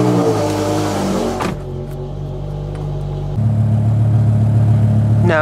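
A Ford F-150 engine rumbles steadily at idle, loud and close, with its note dropping lower midway through and then settling into a heavier, throbbing low drone.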